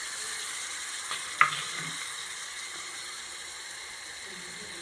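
Potatoes fry in a pan while a tangy potato stew is being cooked, giving a steady, even sizzle with one brief clink near the start.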